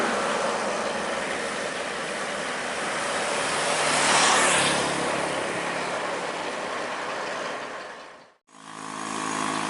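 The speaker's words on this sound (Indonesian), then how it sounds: "Ada bus nih, sabar dulu ya." A bus on an Indonesian road passes close by, a broad rushing roar that swells to a peak midway and holds steady, then cuts off abruptly near the end before a quieter engine hum resumes.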